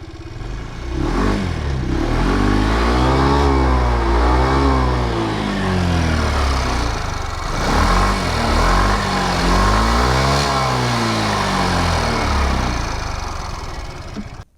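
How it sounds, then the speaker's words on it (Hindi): An Aprilia SXR 160 BS6 scooter engine revs up twice in loud, close bursts, its exhaust note rising and falling in pitch each time before settling back, with no talking. "अब एक काम करते हैं, इसका एग्जॉस्ट नोट सुन लेते हैं।"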